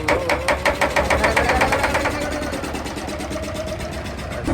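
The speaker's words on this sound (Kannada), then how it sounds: "ಬೋಟ್ ಸ್ಟಾರ್ಟ್ ಆಗಿದೆ." A boat engine on the river at Varanasi chugs after starting, a loud rhythmic knocking pulse up close that settles into a steady idle.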